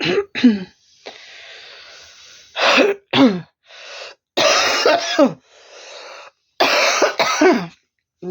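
Repeated harsh coughs come in several bursts close to the microphone, separated by short pauses and raspy breaths.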